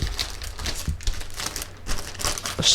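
A noisy plastic package holding embroidery thread crinkles and rustles up close in irregular bursts, with sharp crackles scattered over a continuous papery hiss, and no voice over it.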